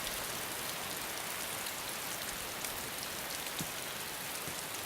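Steady rain in the video game DayZ, a dense, even hiss of falling drops with a few faint patters on surfaces, continuous and close with no voices.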